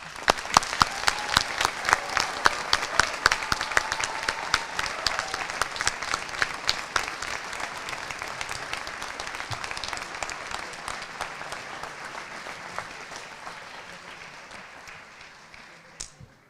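A commencement audience at a community medicine school applauds its medical graduates with sharp, crisp claps that start strong, then slowly thin and fade over about sixteen seconds.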